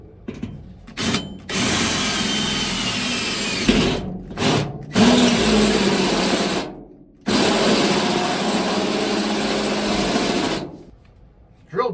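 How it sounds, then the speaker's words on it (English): A power drill bores a hole for a bracket in loud, high-pitched whirring bursts of a few seconds each, separated by short silent gaps. "get that hole drilled."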